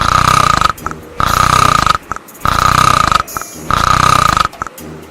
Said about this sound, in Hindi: वो जाकर खटिया पर खर्राटे मारकर सो रहा था।